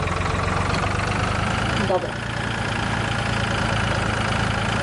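A tractor engine in the farming game Farming Simulator 2013 runs at a steady idle, a continuous low drone with a brief dip partway through, under a short spoken word.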